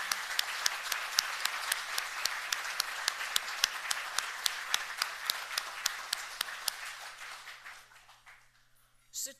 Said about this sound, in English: let's start with a big round of applause for all of you.